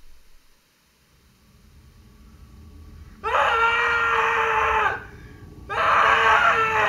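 A person screams in a French short film, two long, loud, strained cries separated by a brief pause, rising out of a quiet, rumbling room background.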